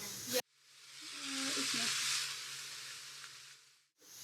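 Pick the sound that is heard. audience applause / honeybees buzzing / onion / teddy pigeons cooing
onion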